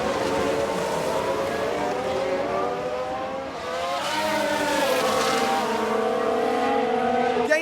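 A 1991 Ferrari Formula 1 car races in F1 Manager 22: a loud, steady high-pitched engine scream that dips briefly, then climbs again through the gears.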